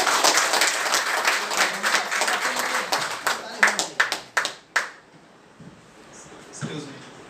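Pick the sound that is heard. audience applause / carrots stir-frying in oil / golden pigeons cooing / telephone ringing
audience applause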